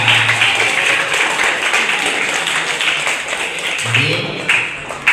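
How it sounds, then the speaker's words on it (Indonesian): High school students in an auditorium clap for a guest speaker at a civic education session, a broad, steady wash of applause with voices talking over it. "Baik, tepuk tangan untuk Pak Mega."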